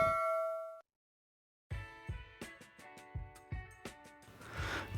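A bright notification chime for a subscribe bell icon rings once, a clear tone that stops abruptly and is followed by silence. After the gap come repeated metallic clanging dings over fuller sound.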